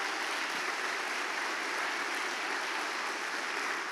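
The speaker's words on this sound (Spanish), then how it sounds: "Damos un fuerte aplauso al Espíritu Santo." Congregation at a church service applauding, a steady dense wash of clapping from many hands, even and continuous without voices on top.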